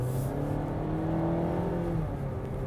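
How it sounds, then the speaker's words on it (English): A Volvo V60 B3 mild-hybrid engine pulls hard and steady, its pitch climbing under full throttle before a brief shift-like dip near the end, loud and close. "I'm going to floor it."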